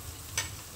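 Spice paste for a banana blossom dish stir-fries in a pan with a quiet steady sizzle and one brief scrape of stirring, short and faint.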